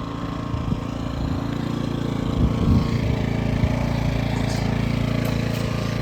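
A Hyundai 700 W petrol generator runs at a steady drone with a low, rough engine hum, continuous and fairly loud up close.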